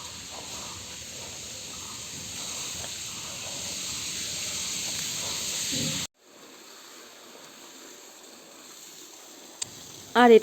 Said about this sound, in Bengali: বাড়ির ভিতরের বাগানে আমার বর জল দিচ্ছে